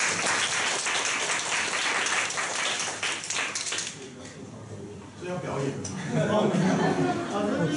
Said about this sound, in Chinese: 那我们掌声欢迎 Adam